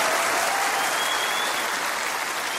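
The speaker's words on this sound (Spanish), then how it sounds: "un aplauso para Katherine" Strong, sustained applause from an audience, a thick continuous wash of clapping that holds at full level for a couple of seconds with no talk over it.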